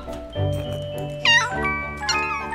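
A ragdoll kitten in the video game Crazy Cat Lady Simulator meows twice, close and clear, rising and tonal, over faint tinkling background sounds with no talking.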